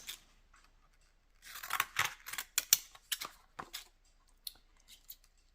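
Scissors snip through paper art for a junk journal tag, a quick cluster of close, crisp blade clicks and cuts following a short silence, then a few slower snips.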